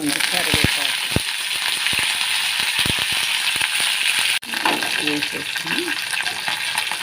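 Garlic, mustard seeds, cumin and cut chilies fry in hot oil with a steady bright sizzle, punctuated by sharp ladle clicks and scrapes against the pan, with a voice heard briefly.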